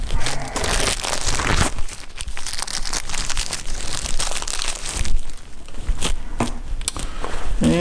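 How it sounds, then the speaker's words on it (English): Plastic crinkling and crunching as the air filter comes out of a Husqvarna 365 Special chainsaw, a steady run of close handling noise with a few sharper clicks. "We're going to get our filter out."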